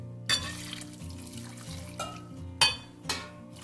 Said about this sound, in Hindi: इसमें मैं डाल रही हूँ जी 3 गिलास गरम पानी के